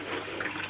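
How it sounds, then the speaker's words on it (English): Water flowing through a tube into an aquaponics setup, a short, soft, steady gush and trickle. "So the water goes in here"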